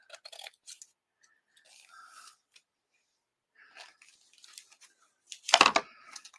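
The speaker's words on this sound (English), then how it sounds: "So I'm going to cut it apart." Scissors snip through a napkin's fabric to cut it apart for a journaling card, a few soft scattered cuts ending in one louder close crunch near the end, in a quiet room.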